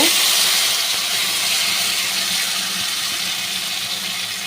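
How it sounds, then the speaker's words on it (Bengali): Water poured onto spices frying in a pan in a home kitchen gives a loud, steady steaming hiss that fades slightly over a few seconds, with no voices. "মশলার বাটিটা দিয়ে একটু জল দিলাম"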